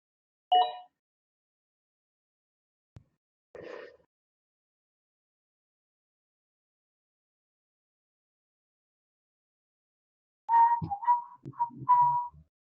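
Someone whistles a song in short separate bursts: a brief phrase near the start, another a few seconds later, then a longer melodic run after a long silence, fairly close and clear with nothing else around it.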